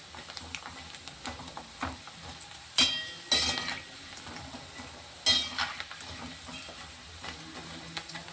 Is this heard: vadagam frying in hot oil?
yes